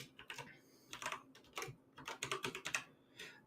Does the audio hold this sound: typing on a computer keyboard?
yes